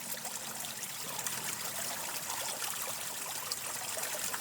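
Soft, steady trickle of a small wooded stream running toward the Seine near Brussels, a continuous low babble of water with no voices.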